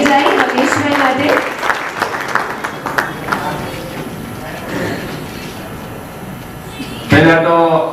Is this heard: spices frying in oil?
no